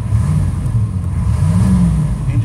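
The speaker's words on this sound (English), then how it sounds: "Engine sounds tight." A 2001 Chevy Workhorse aluminum step van engine runs close by, revving up and easing off in a steady, throaty rumble.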